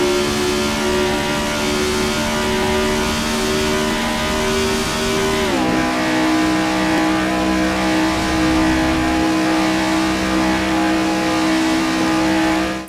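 Race car engine in a video game on the long Le Mans straight, a loud sustained roar climbing steadily in pitch through the gears toward top speed, with a brief dip at a shift midway, no voices.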